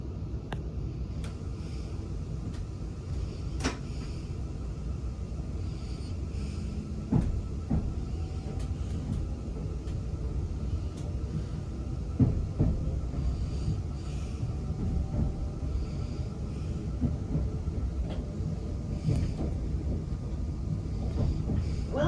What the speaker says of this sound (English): Welcome aboard this London Northwestern Railway service to St Albans Abbey